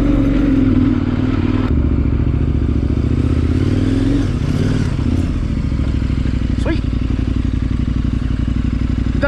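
A KTM 1090 motorcycle riding off-road, its engine droning steadily and loudly up close, with shifting pitch as it pulls along rough terrain and occasional clatters and scrapes from the ground.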